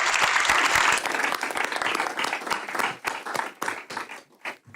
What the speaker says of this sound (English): Can we just have another round of applause for all these great students and the faculty we